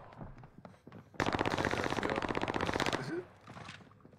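A burst of rapid automatic gunfire in a video game, loud and close, firing continuously for about two seconds with quieter game sounds and a speaking voice around it.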